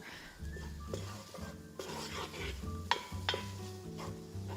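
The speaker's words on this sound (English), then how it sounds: "we'll just cook the garlic with the onion for about 30 to 60 seconds" Minced garlic and onion cooking in a pan, with a soft sizzle under repeated utensil scrapes and clinks of stirring, close and moderate, with music-like tonal hum underneath.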